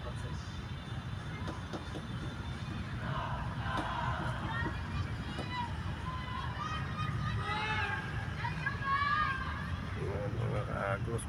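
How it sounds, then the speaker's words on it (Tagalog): Crowd noise at a UAAP basketball game between DLSU and Ateneo, a dense, continuous roar of cheering and shouting with rising swells of voices throughout, heard from within the arena. "Napapasigaw yung crowd eh."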